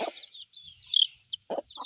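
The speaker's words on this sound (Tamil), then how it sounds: "இதான் நான் முதல் கோழி குஞ்சு" A young chicken, a chick, gives a few short clucking calls close by, with a steady high background whine and a couple of soft peeping notes between them.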